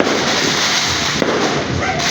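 New Year firecrackers and fireworks going off in a dense, continuous crackling roar, loud and close, with overlapping pops and a sharper bang midway.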